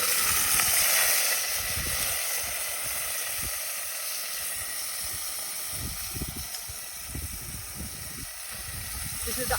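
Vegetables hit hot groundnut oil in a pan and sizzle loudly with a steady broadband hiss that carries through the whole stretch, a voice murmuring faintly underneath.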